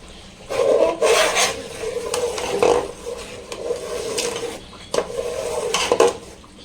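Fruit custard being stirred in a pan with a utensil, giving steady scraping and rubbing strokes against the metal that come and go in bursts, close and fairly loud, with no talking.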